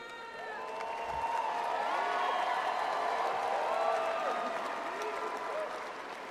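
A graduation audience breaks into applause with cheers and whoops; the clapping swells after the first second, stays dense and loud with voices shouting over it, then eases slightly near the end.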